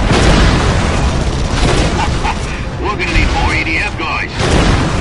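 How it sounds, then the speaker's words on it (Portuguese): Explosions and collapsing buildings in the video game Red Faction: Guerrilla: a loud, dense rumble of booms, crashing debris and blasts, with someone narrating over the destruction. "A destruição promovida pelas bombas, tiros e colisões é real mesmo."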